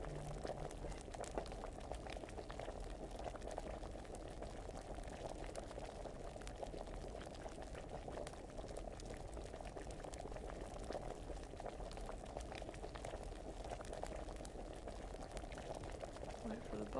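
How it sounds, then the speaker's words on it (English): Continuous bubbling of liquid in a video game, a steady, quiet simmer that runs unchanged throughout. "bubbles should be done."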